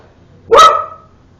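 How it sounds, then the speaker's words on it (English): A single dog gives one sharp, loud bark close by, a short burst with a slight tonal tail, then silence. "What are they barking at?"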